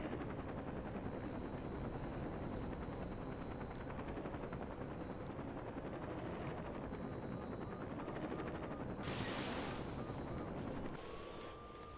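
Helicopter in the video game Saints Row 2, a steady whirring rotor and engine drone held at a constant loudness, with a brief brighter burst of noise near the end.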